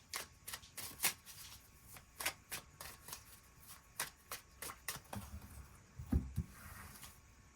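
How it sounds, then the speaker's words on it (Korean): Tarot cards are shuffled and drawn at close range, a quiet sequence of crisp riffling flicks and soft slaps with short pauses between, plus a low thump near the end. "그 부분에 대해서도 추가 카드 뽑아보도록 하겠습니다"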